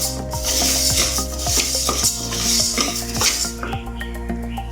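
Green gram (moong dal) is dry-roasted in a pan while a spoon stirs it, scraping and clinking against the metal in steady repeated strokes, with a rustle of tumbling grains and a faint sizzle.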